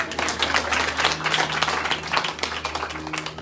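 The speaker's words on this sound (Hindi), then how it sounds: "एक बार ताली मारो अपने लिए" Audience at a Shrimad Bhagwat Katha religious discourse clapping together, a dense, steady round of applause lasting the whole moment, with faint sustained tones beneath.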